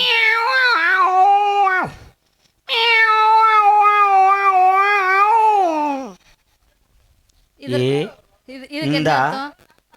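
A person's voice imitates a tomcat calling to a female cat, making two long, loud, wavering yowls followed by two shorter, sharper meow-like cries, close and clear.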